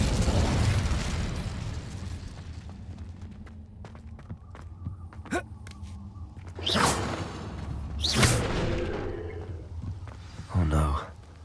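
Fire spell blasts in Hogwarts Legacy, heard as two or three loud whooshing bursts with a crackling tail, set against a low rumbling hum and scattered thuds, with no talk.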